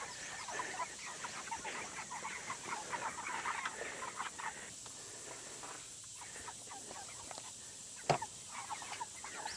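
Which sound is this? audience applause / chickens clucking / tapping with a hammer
chickens clucking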